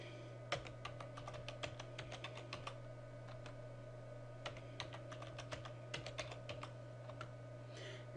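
Someone types a password on a computer keyboard in short clusters of light clicks with brief pauses between them. A steady low electrical hum sits underneath, and the room is otherwise quiet.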